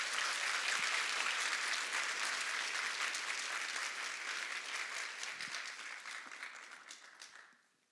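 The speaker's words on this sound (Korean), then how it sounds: "여러분들 큰 박수와 환영으로 우리 맞이해 주시기를 바랍니다." Church congregation applauding to welcome a guest missionary speaker, a broad steady wash of many hands clapping in a large room that gradually thins and fades out over about eight seconds.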